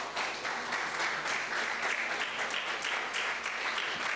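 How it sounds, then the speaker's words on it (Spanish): Church congregation applauding together during a Sunday service, a steady dense crackle of many hands clapping that fills the whole stretch without pause. "Denle un fuerte aplauso al que vive."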